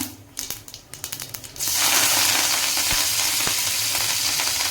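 Curry leaves hit hot oil with cumin seeds in a pan for bitter gourd fry, bursting into a loud, continuous crackling sizzle after a few light taps and clinks.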